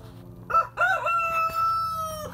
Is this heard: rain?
no